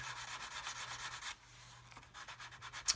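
Paint being rubbed down on a 1/32 scale HK Models Lancaster model kit: a close, soft rhythmic scratchy rubbing in quick back-and-forth strokes, with a short pause midway and a low steady hum underneath.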